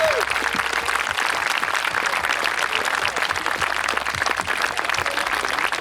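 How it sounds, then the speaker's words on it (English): Audience at a corporate President's Club event applauding guests, dense sustained clapping filling the room, with faint voices underneath. "give a round of applause for our guests"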